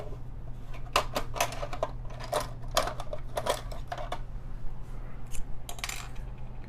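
An X-Acto knife snips plastic model kit parts from the sprue, a series of sharp, close clicks and cracks in irregular clusters over a steady low hum.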